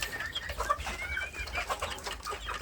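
Free-range village chicks clucking and peeping in a rural coop, a continuous busy chatter of small bird calls over low background rumble, with no talk.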